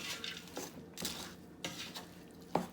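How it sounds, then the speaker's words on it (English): Cornbread dressing being stirred together with broth and meat in a pan, faint scraping and clinking of a utensil against the pan in several separate strokes, with a sharper tap near the end and no talking. "So now we are going to mix our recipe up."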